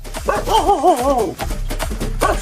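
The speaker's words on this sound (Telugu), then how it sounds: "రే మనోజ్, దాని కుక్క పిల్ల ఏమైనా దొంగతనం చేసినావురా?" A puppy yelps nearby in a high, wavering whine that rises and falls, followed by a few short yips.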